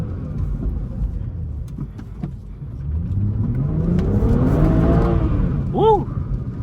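A 500hp BMW slides hard around a street corner, its engine revving and rising in pitch through the drift, with a brief tire chirp near the end; a voice shouts over the loud, close engine.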